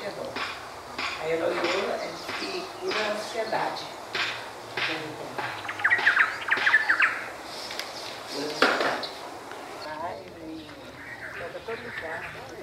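Tiny songbird chirping at a country smallholding among trees, several short calls scattered under steady nearby talking, with soft household clatter in the background.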